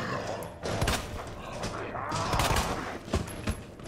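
Rapid gunshots from a gun in the Resident Evil 2 video game, a string of sharp close cracks spread through the moment, with a voice speaking over part of it.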